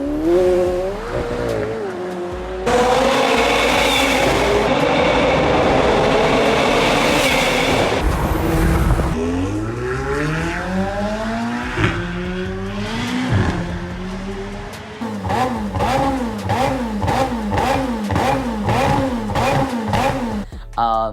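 McLaren 720S driven hard, engine revving loudly through rising and falling sweeps as it accelerates and shifts, close and sustained with some tire noise.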